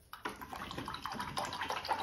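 Paint-laden brush being swished and rinsed in a container of water during acrylic painting, with a steady run of soft splashing and sloshing close by, no voices.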